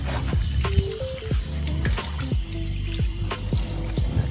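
Cold water runs and splashes while someone washes their feet, a close continuous flow broken by irregular splashes and sloshing, with no talking.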